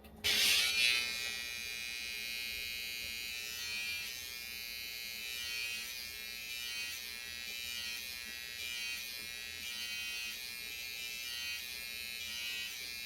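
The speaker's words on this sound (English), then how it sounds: "slant the trimmer, put it straight, follow along." An electric hair trimmer buzzes steadily and close up while cutting a line up along the hairline, a bright high whine that starts with a brief louder burst, then holds an even, continuous tone for the whole stretch with no talking.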